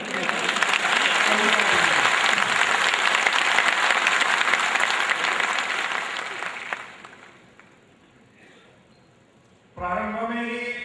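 Applause from a convention audience, a sustained loud wash of clapping that fades out over several seconds before a voice begins speaking at the end.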